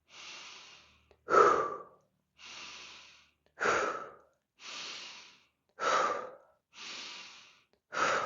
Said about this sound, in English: As long as you start with that belly breath, filling up the lungs, fully exhaling, that beautiful directed pace.